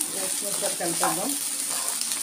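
Rice is stirred into melted jaggery syrup in a pan, giving a steady close sizzle and soft stirring sounds throughout, with someone talking over it.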